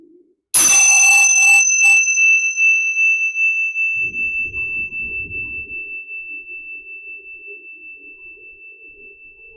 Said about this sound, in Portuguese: Deixa que o som do sino seja um sinal para você relaxar.